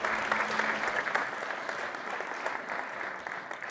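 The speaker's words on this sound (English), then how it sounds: "And you may give them a warm applause." Audience applause at an offshore wind energy workshop in the Netherlands, a fairly faint, steady clapping from a seated crowd that gradually eases off toward the end.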